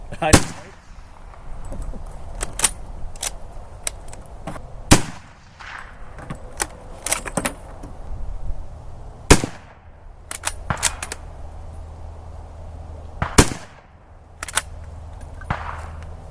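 Rifle gunfire at an outdoor shooting range: sharp, loud shots crack out at irregular intervals, some single and some in quick pairs, with faint talk in the background between them.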